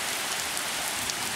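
A summer rainstorm pours down outside, a dense, steady patter of drops striking surfaces, even and continuous with no voices.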